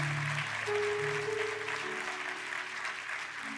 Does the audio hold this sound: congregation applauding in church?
yes